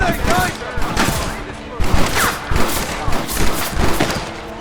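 Gunfire from a Red Dead Redemption shootout, with dense overlapping shots and bursts running throughout alongside game voices and loud ambient action.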